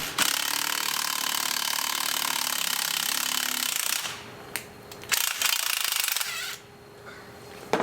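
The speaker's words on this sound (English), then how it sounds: "This is a popular tool called a ball joint press." A ball joint press used as a bushing press pushes a bushing out of a Ferrari 308 GTS suspension part. A loud, harsh mechanical rattle runs for about four seconds, then comes in shorter bursts with sharp knocks between quieter gaps.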